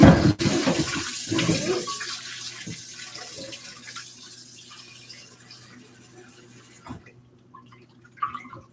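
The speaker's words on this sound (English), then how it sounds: "Let's rinse off our meat." Tap water running into a kitchen sink while meat is rinsed, a close splashing burst at first that fades to a softer trickle with a few thumps and clunks.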